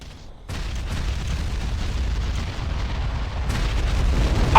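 Artillery bombardment in the strategy video game Ground Control rumbles in as a dense, continuous roar of explosions that starts abruptly and swells louder toward the end.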